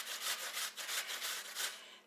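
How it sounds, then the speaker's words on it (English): Rhythmic rasping strokes of an apple rubbed against a metal grater, about eight back-and-forth scrapes in quick succession, close and clear with no talk. "you can tell when you get to the hard part of the apple, it just grates differently"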